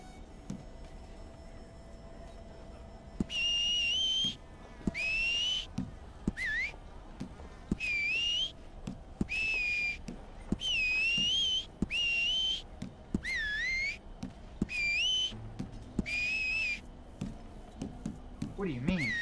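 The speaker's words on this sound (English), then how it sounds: "Whistle." Character whistling in Red Dead Redemption 2, a series of about ten short, bright whistled phrases with rising and falling pitch, separated by brief gaps, over quiet game background.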